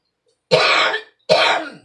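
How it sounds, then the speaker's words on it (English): Two harsh coughs, about a second apart, each a broad burst of noise close to the microphone with silence between. "Got a cough over the sink."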